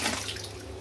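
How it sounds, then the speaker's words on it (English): Hot water pours steadily over the lid of a homebrew beer kit tin, a brief close splashing rush of liquid with no voices. "Just pour the hot water over the"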